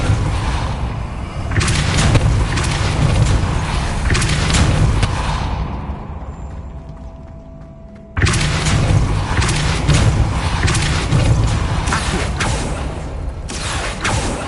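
A spell is cast in the Hogwarts Legacy video game amid loud, dense rumbling booms and crashing impacts. They fade into a quieter hum for a couple of seconds, then burst back in just as strongly.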